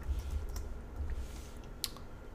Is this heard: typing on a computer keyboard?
yes